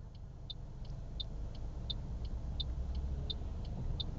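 An automatic car waits at a traffic light during a driving test in Toowong, its engine idling as a steady low rumble inside the cabin, with a sharp tick repeating roughly every 0.7 seconds throughout.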